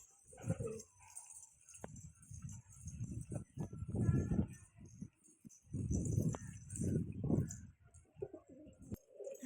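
Pet pigeons coo softly and repeatedly, the low rolling calls rising and falling close by, with faint rustles and quiet voices in the background.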